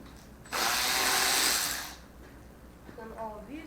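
A power tool whirs for about a second and a half, spinning out a quarter-inch bolt on a 1977 Ford 351M engine during teardown, loud and close, followed by quieter mechanical clinks and a brief voice.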